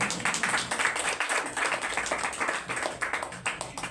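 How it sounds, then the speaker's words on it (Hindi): Audience clapping fills a Women's Day celebration programme, a dense, steady wash of many hands applauding together throughout at moderate loudness. "तालियां बजाएं।"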